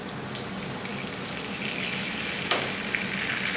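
Armagnac splashed into a hot pan of steak for pepper sauce sets off a steady close sizzle, with a sharp hiss and burst near the end as the liquid hits the pan.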